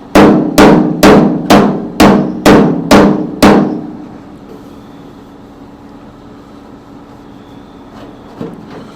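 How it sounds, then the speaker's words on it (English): Hammer striking a car body panel backed by a dolly during bodywork: eight sharp, ringing metallic taps in a steady rhythm over about four seconds, then quiet workshop room tone with one faint knock near the end. "now we're just going to hammer here"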